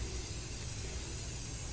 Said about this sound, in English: we just simply spray it up and down the filter.